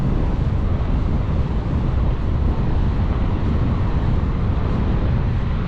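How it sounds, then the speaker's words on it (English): Steady wind buffets the microphone with a dense, rumbling roar, continuous and fairly loud throughout, with no voices, at Lough Neagh. "Oh, it's windy here"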